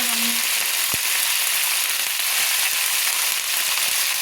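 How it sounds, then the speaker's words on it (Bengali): Cauliflower florets frying in a wok with turmeric give a dense, loud, steady hiss of hot oil with scattered crackles and pops, close and continuous. "একটু ভেজে নেব ফুলকপিগুলোকে"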